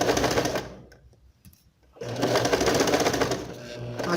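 A sewing machine backstitches a trouser crotch seam, running in a steady close whir, pausing for about a second, then resuming at full speed.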